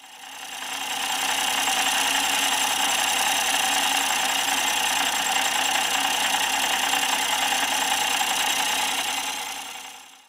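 A small electric toy car motor whirs continuously with a steady high-pitched buzz, rising in at the start and fading slightly at the end.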